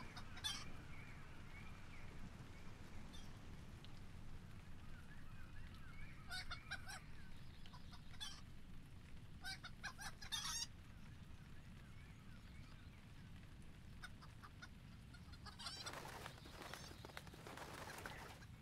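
Chickens cluck and a rooster crows in the online game The Lord of the Rings Online (LOTRO), in a flock in the Evendim region. Steady clucking runs over a constant low background hum, with a few sharper bursts along the way.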